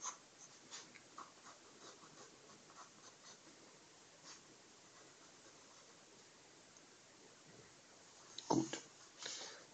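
A pen draws small triangles on paper to make a braid pattern, a faint, soft, continuous scratching close by, ending with a brief louder knock.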